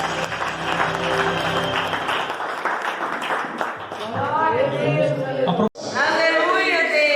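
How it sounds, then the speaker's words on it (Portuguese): A congregation claps loudly in a dense, sustained round of applause during an evangelical church service in Pedra Preta, Mato Grosso; the clapping fades as a voice begins talking, and the applause briefly returns near the end. "As palmas vão estar no nome do Senhor."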